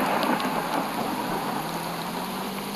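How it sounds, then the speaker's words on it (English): Steady rainfall in the Roblox game Brookhaven, a continuous dense hiss of falling drops with a faint low rumble beneath, even and unbroken throughout with no voices. "I don't want to be left out in the rain."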